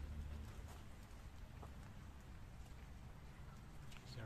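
Steady rain falls outdoors as a faint, continuous hiss with scattered drops hitting surfaces, heard alone with no voices.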